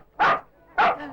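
Dog barking twice, two loud close woofs about half a second apart in a tense outdoor chase scene.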